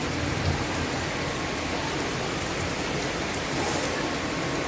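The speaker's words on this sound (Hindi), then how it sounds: "देखो कितनी तेज बारिश हो रही है।" Heavy rain pours steadily, a dense, even hiss of water drumming on surfaces with no pauses and no voices.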